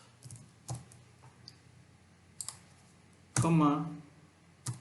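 Scattered computer keyboard keystrokes sound during code writing, a few sparse clicks and short bursts close by, with a voice speaking briefly between them.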